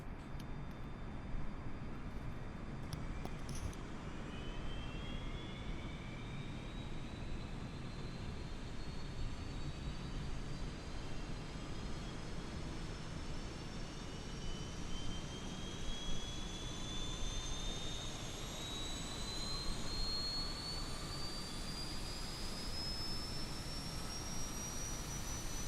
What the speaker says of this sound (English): Let's go ahead and hit our APU start.